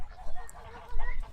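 A lavender American goose honks in a breeder pen, a few loud nasal calls bursting out near the start and again toward the end over low background rumble.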